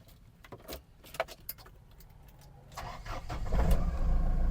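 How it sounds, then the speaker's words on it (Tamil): A Mahindra Scorpio SUV: keys rattle close by, then the engine cranks and catches, settling into a steady, rumbling idle. "இப்போ வண்டி அப்படியே ஸ்டார்ட் பண்ணி பார்க்கலாம் பாருங்கள்"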